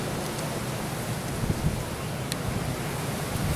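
Strong wind roars during a November 2018 wind storm in Cal-Nev-Ari, Nevada, giving a steady, dense broadband rush with a few brief gusty bumps, close to the microphone and with no talking.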